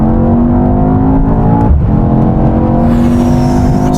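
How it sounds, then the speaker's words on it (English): A BMW M5 CS, AMG E63, Audi RS6 and Porsche Panamera Turbo drag race from a rolling start in sport settings with gearboxes locked in third, engines roaring loud and steady with rising tones and a brief shift-like dip midway. "Now we're going to have another rolling race from 50 miles an hour, but this time with the cars in their sportier settings"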